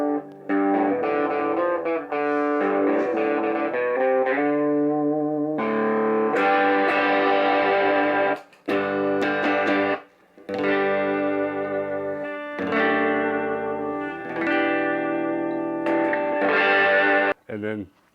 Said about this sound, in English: the other pedal I got today is just an overdrive pedal